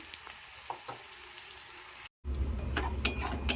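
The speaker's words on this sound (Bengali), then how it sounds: "পেঁয়াজটা লাল লাল করে একটু ভাজা হয়ে যাক" Steady hiss of onions sizzling in hot oil, with a brief cut partway and a louder crackling burst afterward.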